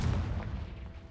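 Confringo fire spell in Hogwarts Legacy bursting as a deep, rumbling boom that stays heavy and loud through a brief moment, with no clear start or end.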